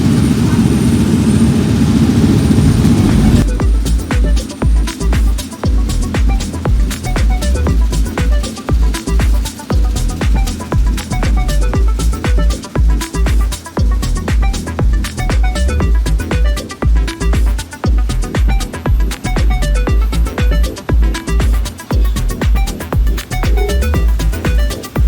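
Airplane on a Bangalore to Varanasi flight, a continuous heavy engine drone heard from inside the cabin after a short quieter opening, with a dense rattling texture running beneath it throughout.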